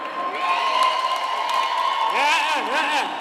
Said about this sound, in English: Come on, give you a round of applause as well.